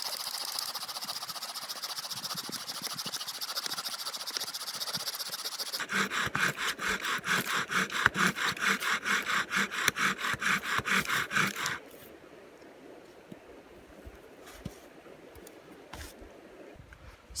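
A bow drill works a dry willow spindle against a white spruce driftwood baseboard, producing a loud, rapid back-and-forth rasping friction that speeds into quick strokes, then stops, leaving quiet ambience.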